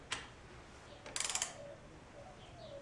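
A torque wrench on the front end of a Kawasaki KZ 750 motorcycle gives one faint click, then a short, quick run of ratcheting clicks against quiet background hiss.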